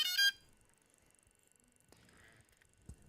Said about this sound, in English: to turn on the drone itself, you press the battery once, twice, and hold. You'll see the lights flash, and you'll also hear the startup noise